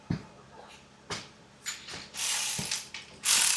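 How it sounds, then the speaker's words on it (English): Hand ratchet wrench seating Torx bolts on a 6.7 Powerstroke diesel during a DCR fuel system conversion, giving a few short clicking bursts spaced apart, close and fairly loud, with louder hissy rattling toward the end. "Get those started, and then I'm going to grab a wrench."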